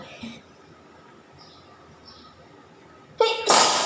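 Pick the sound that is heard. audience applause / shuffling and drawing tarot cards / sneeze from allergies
sneeze from allergies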